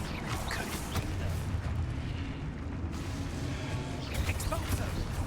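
Confringo blasting spell explosions in the Hogwarts Legacy video game, a dense, rumbling barrage of booms and crashes layered continuously over low game combat noise for several seconds.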